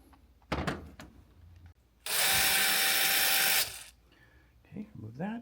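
A power driver with a socket bit spins out screws while a Ricoh C5200S printer cleaning unit is replaced, one loud sustained whir of about a second and a half between scattered handling clicks and knocks.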